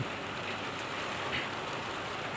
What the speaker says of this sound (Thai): ฝนเริ่มตกแล้วนะครับ